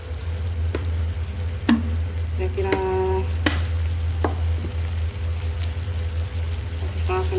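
Tomato paste and spices fry and sizzle in a pan while being stirred, with scrapes and clinks of the spoon over a steady low stove hum, and a voice briefly speaks.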